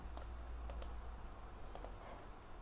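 Sparse keystrokes on a computer keyboard at a desk, a few quiet clicks spaced apart and then a short cluster near the end, faint over a steady low hum.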